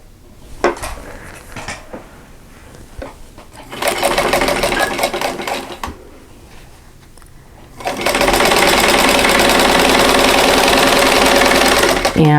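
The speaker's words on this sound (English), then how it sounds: "then sew a 1/4 inch away from that drawn line" A sewing machine chain-pieces quilt block pieces for an oatmeal cookie quilt block, sewing a quarter inch from a drawn line. A short run is followed by a pause with light handling clatter, then a long, loud, steady rattling whir.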